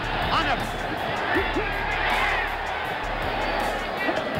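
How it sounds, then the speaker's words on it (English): A boxing arena crowd roars at a heavyweight fight between George Foreman and Jimmy Young, a dense sustained din of shouts and cheers beneath a commentator's talk. "Crowd roars again as Young continues."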